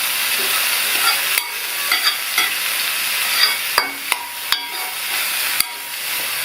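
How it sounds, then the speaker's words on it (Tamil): A spatula stirs drained chana dal into ash gourd poriyal in a pan, with a bright frying hiss broken by a series of sharp scraping clacks against the metal, loud and close, with nobody speaking. "ஒரு தடவை நல்லா மிக்ஸ் பண்ணி விட்டுக்கணும்."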